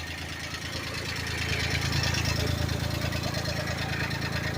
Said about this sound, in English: when you're driving your tractor, you put your hood where that mark is centered